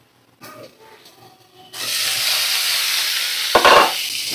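Pumpkin pieces fry in a pan with salt and turmeric; after a quiet start with faint clinks, a loud, steady sizzle kicks in and continues, with a brief louder burst near the end.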